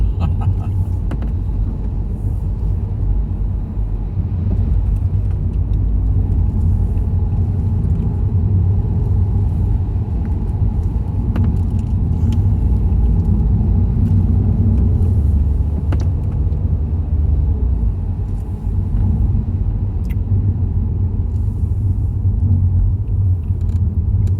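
Steady loud engine and road rumble inside a car on the mountain road from Stelvio to Bormio, driving into roofed road sections and tunnels, with a dense low drone throughout and faint clicks above it.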